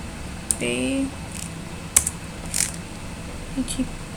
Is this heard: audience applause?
no